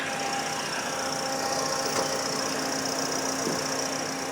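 Toyota Vios 1.5 Entry 2020 with a four-cylinder 16-valve Dual VVT-i engine idling, a steady, even hum heard near the open engine bay, with no talk over it.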